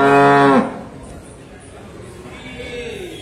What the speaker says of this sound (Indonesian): Mungkin ini adalah sapi betina majer atau mau dipotong.